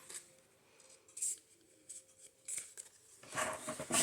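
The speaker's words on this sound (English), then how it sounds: "And then let's cut this in half." Scissors snip through paper for a junk journal craft in short, quiet bursts of crisp cutting, closing with a longer run of snips, no talking.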